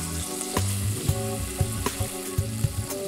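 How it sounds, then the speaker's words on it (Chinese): Shrimp fry gently in olive oil with garlic over low heat, giving a steady soft sizzle with a few brief clicks and pops. No one talks. "翻面再烧1-2分钟至卷曲变红。"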